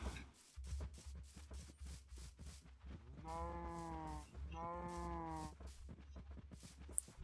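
Minecraft sheep bleating twice in a row, two long wavering baas, over a low constant game hum and scattered soft clicks.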